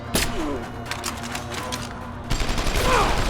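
Rapid gunfire in Deus Ex: Human Revolution, a boss fight with sharp bursts of shots crackling loudly up close over game music, with a few distinct louder reports standing out.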